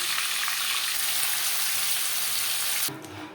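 A rohu fish head fries in hot oil for a thin potato fish curry, giving a loud, steady, dense sizzle that carries for nearly three seconds before cutting off abruptly.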